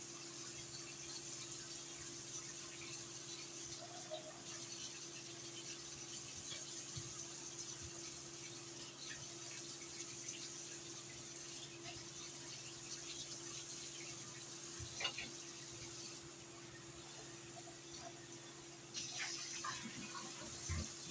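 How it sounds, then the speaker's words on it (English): Milky tres leches liquid poured over a banana pudding cake, a steady, soft, continuous trickle and hiss with a low hum underneath, no talking. "we're going to pour it over the cake"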